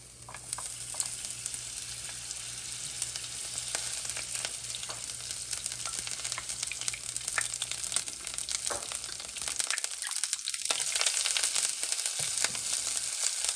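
Green chili and other ingredients fry in hot oil in a pan for a Vegetarian Manchurian, a steady loud sizzle with crackling and scraping stirs, briefly settling near the end.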